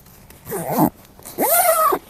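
A fishing bag zipped shut in two quick pulls, the first short and ragged, the second a longer smooth rasp, close and clear with no talking.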